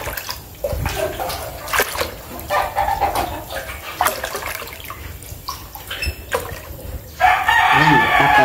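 Chickens and chicks in a backyard coop cluck and peep in scattered calls, with a rooster crowing, splashing water and rustling close by, and a burst of running water near the end.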